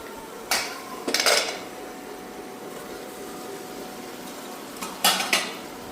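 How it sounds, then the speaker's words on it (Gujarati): A pressure cooker lid drops and clatters on a hard kitchen floor, giving three sharp metallic crashes, the middle one a short rattling cluster, in an otherwise quiet room. "ઢાંકણું બીજા કુકરનું હાથમાં આવેલું આણું હેઠું પડી"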